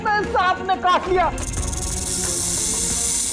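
A sustained, loud snake hiss follows brief frantic voices in a room, continuing steadily to the end.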